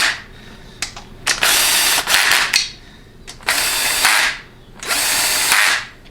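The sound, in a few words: quarter-inch impact wrench tightening bolts on transmission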